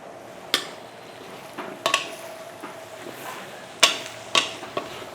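Ginger is stir-fried briefly in a pan for a large batch of Chinese-style butter chicken: a few sharp, scattered clinks of a utensil against the pan over a faint, steady background.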